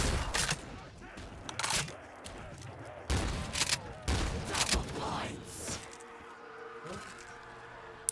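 Several loud, sharp shotgun blasts from a video game ring out at irregular intervals, each a broad burst that fades quickly, with quieter game sounds in between.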